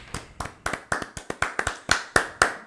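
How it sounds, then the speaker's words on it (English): About a dozen sharp hand claps land close and crisp in an uneven rhythm, each a distinct smack with a short decay, alone without talk. "Clap it up, clap it up, clap it up"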